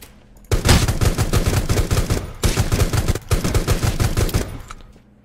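Bombing zone in Rules Of Survival, loud dense barrages of rattling explosions and gunfire-like blasts in three long waves separated by brief gaps, close and continuous.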